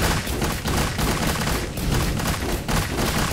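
Rapid video game gunfire in Risk of Rain Returns, a dense, continuous barrage of loud shots filling the whole stretch with brief pulsing gaps and no audible talking.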